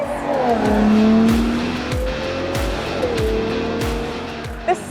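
A Ferrari Purosangue's 6.5-litre V12 revs hard under acceleration, a loud rising engine howl that climbs in pitch, drops briefly at a shift and climbs again, with rhythmic road thumps beneath.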